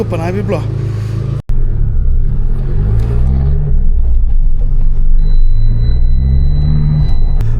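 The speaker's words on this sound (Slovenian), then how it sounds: "Avto je že zagret" A warmed-up Abarth car engine runs with a steady low rumble beneath a person talking, with one brief dropout early on.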